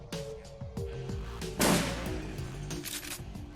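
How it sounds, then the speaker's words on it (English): Bursts of gunfire and spell blasts from the Shadowrun Returns video game, sharp repeated impacts over a layered tonal game soundtrack, with one heavier blast in the middle. "You listen as the sounds of gunfire and spell bursts fade away"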